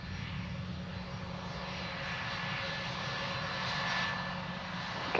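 Airliner engines taxiing at Perth Airport, a sustained loud jet whine and roar that stays steady and close, swelling slightly toward the end, with no talking.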